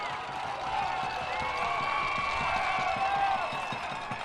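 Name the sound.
stadium crowd cheering at a soccer match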